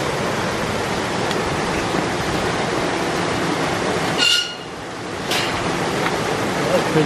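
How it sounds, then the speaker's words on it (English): Running water at a river ford on a countryside ramble near Sedbergh: a steady, close rushing wash fills the whole stretch, dipping briefly partway through before swelling back. "this is where the ford is, and that's where the most running water is"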